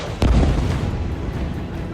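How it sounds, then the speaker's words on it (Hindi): A single heavy missile blast in Gaza booms abruptly and close, then trails off into a long rumbling echo and dull background noise. "मिसाइल धमाके पहले की तरह हो रहे थे।"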